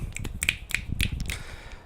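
A quiet golf clap, a brief run of soft, light, sharp hand claps spaced unevenly, close and dry, with no talking.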